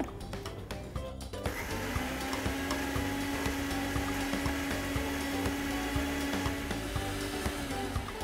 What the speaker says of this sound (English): Give it a few pulses in the blender.